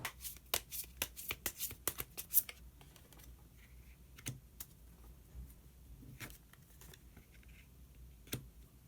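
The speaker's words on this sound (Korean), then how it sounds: "그러면 마지막으로 히든 카드 한 장 더 뽑아보도록 하겠습니다." Tarot cards are shuffled in a quick run of crisp riffling snaps, followed by a few sparse, soft card flicks and slides as a single card is drawn, fairly close and quiet with no talk.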